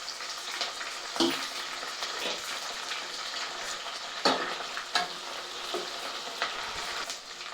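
Green chilies, onions and curry leaves frying in oil, a continuous medium-loud sizzle punctuated by a few spoon scrapes and splashy stirs, close by, with no speech.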